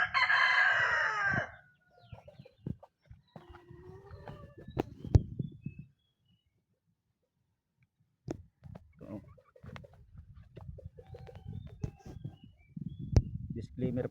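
A Tazmanian Devil gamefowl hen and rooster: a loud, close rooster crow opens, then sparse low clucks and scattered knocks follow, with a brief silent gap midway.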